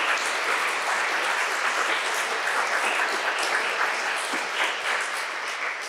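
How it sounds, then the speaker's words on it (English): An audience at a fall gathering applauds the visiting artist speakers, sustained broad clapping at a steady level that tapers slightly toward the end. "Let's give one more round of applause for our visiting artist speakers"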